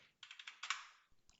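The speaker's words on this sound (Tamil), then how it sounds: "ஓகே, நேமை டைப் பண்ணுறோம்" Keys clatter on a computer keyboard in a quick, close burst of about ten taps, with a short pause and then a few more strokes, and no one speaking.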